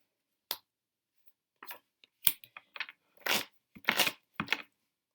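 Playing cards being handled and laid down on a table, a series of short crisp snaps and soft slaps spaced irregularly, close and alone.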